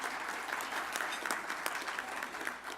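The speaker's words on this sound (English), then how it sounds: "give a round of applause to Frankie Joe and our staff here for putting on this great event" Clapping from the audience at a 2019 business symposium, held for Frankie Joe and the event staff, a moderately distant round of applause that holds steady and begins to thin near the end.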